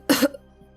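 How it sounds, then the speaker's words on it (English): A game character from Girls' Frontline: Neural Cloud gives one short, harsh cough burst with a rasp, followed by a faint trailing throat sound before quiet. "Persicaria moves up to support Newman as he coughs uncontrollably and his eyes go dim."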